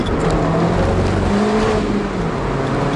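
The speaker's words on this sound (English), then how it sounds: "that's wheel spin in second and in third" A sports car engine revs hard and loud through the gears with wheelspin in second and third, roaring steadily with a rising and falling drone close by.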